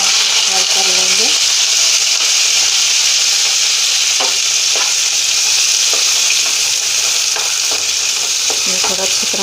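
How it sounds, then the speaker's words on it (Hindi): Steady frying sizzle of ingredients in hot oil in a pan for chole, with occasional stirring scrapes and clinks, loud and continuous throughout with no talking. "चलिए हम डाल देते हैं, फ्राई कर लेंगे"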